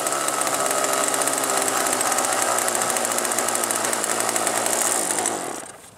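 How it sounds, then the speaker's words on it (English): A glow-fuel model airplane engine, a Super Tiger or Thunder Tiger, screams at high revs at a flying field, loud and close and steady, then drops away sharply at the end. "What kind of engine is that? Super Tiger or Thunder Tiger?"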